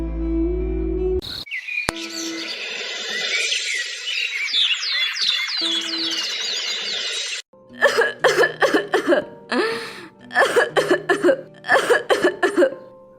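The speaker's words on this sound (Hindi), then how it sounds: "आपकी खांसी बहुत बढ़ गई है।" In a cartoon story, after crickets chirp steadily, an old woman's harsh, repeated coughs come in clustered fits, loud and close, with brief pauses between bursts.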